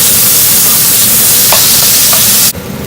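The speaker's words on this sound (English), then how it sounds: "now we're going to cook this minced beef" Minced beef frying in a pan gives a loud, steady sizzling hiss close up, with a couple of faint scrapes before the sound drops off abruptly near the end.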